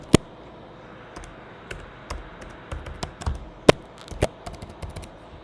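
A password is typed on a computer keyboard, with scattered, uneven keystrokes, a few sharp louder taps among softer clicks, close up over a low background hiss, and no speech.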